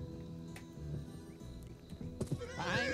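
A horse whinnies in the PS2 video game Gun, a rising neigh near the end over busy game music and hoofbeat-like thuds, fairly loud and close.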